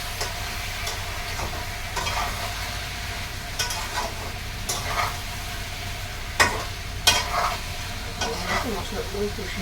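Homemade roasted coriander powder and garam masala are stirred in hot ghee with asafoetida for a paneer dish, giving a continuous close sizzle with scraping stirs and a few sharp clinks of the spoon against the pan.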